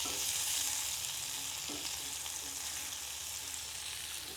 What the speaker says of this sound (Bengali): কম আঁচে ভাজবো।